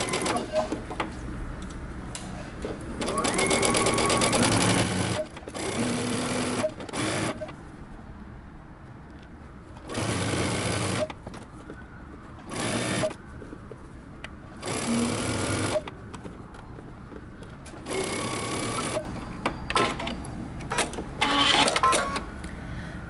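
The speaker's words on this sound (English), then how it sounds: "we're gonna go ahead and stitch using half inch seam allowance along the entire arm's eye" A sewing machine stitching a sleeve seam into a cardigan's armhole in several bursts of fast, steady whirring, with pauses between, close and fairly loud.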